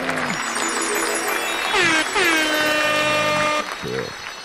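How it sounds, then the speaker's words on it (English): Blaring air horn blasts with wavering, sliding pitch, repeated in quick succession, loud and close. "that deserves a double air horn"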